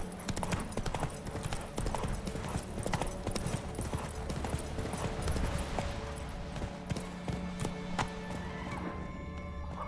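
Hooves of Roach, a horse in The Witcher video game, clip-clop steadily at a walking pace, close and clear, with an occasional whinny mixed in and no speech.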